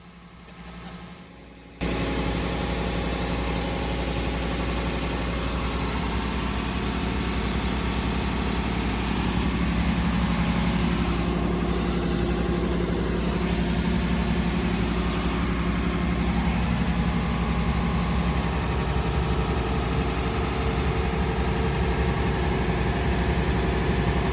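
A boat's starboard engine gives a steady, loud drone after a brief quieter start, with a deep low rumble and constant hum, no talking.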